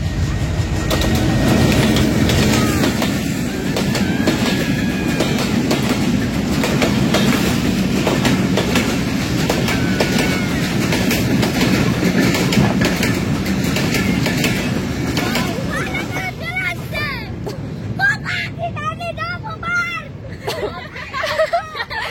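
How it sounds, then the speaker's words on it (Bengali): A train passes by in a village, a loud steady rumble of wheels and rolling wagons with clickety-clack that fades toward the end, with crowd babble and bird chirps underneath. "ফাইনালি ট্রেন চলেই আসলো ওই যে ট্রেন"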